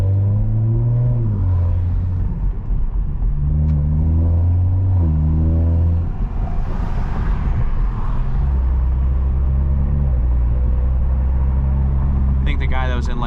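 A 500-horsepower Toyota Supra in track mode drones with a loud, steady engine note during a cruising drive, the pitch rising and falling with throttle, with someone talking over it.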